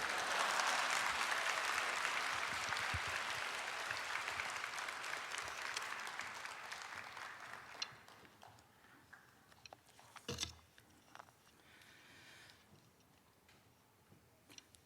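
A church congregation at a Christmas thanksgiving service gives loud, sustained applause to welcome a bishop coming forward to preach. The clapping gradually thins and fades over several seconds, leaving scattered claps and small knocks in a quieter room.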